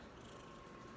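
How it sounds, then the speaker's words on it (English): A house cat purring steadily while held in someone's arms at home, a soft continuous low rumble lasting about a second with no voices. "That's my cat."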